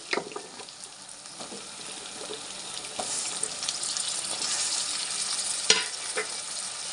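Amaranth stems frying and being stirred into a prawn curry, a steady soft sizzle with occasional scraping clicks of the spoon against the pan, growing slightly louder toward the end, with no talking.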